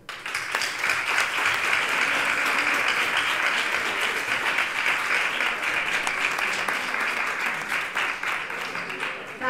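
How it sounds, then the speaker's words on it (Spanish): Sustained applause from a graduation ceremony audience, a dense steady roar of many hands clapping throughout at an even level, with faint voices mixed in. "Por eso yo os doy un aplauso."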